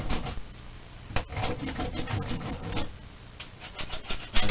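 A hand tool is worked back and forth to shave slivers off the edge of a deer leg, giving close, steady rasping strokes with a few sharper scrapes and no talking.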